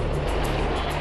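A loud, steady engine drone with a low, throbbing hum from a Mil Mi-24 Hind gunship helicopter's rotor and twin Klimov turboshaft engines running continuously nearby.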